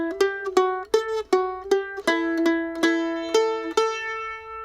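A plucked stringed instrument plays the closing line of the D part of Old Ebenezer Scrooge, a short run of distinct ringing notes, evenly paced and close, alone without speech.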